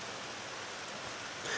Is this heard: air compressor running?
no